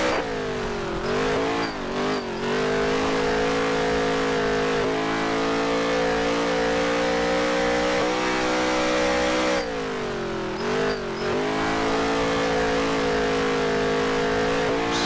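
A NASCAR Heat 3 race car engine roars loudly and steadily through a fast dirt-track lap, with a few brief throttle lifts and dips in the snarl near the start and middle before it revs back up.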